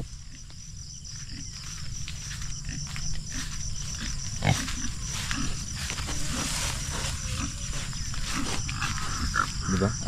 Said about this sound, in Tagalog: pakainin ng feeds yung mga baboy